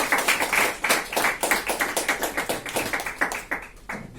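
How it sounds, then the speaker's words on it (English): A small audience claps to welcome the Toastmaster of the day at a Toastmasters-style meeting, with sharp, fairly loud claps that come in a quick, uneven rhythm and slowly thin out toward the end. "So with a big round of applause, let us invite the Toastmaster of the day"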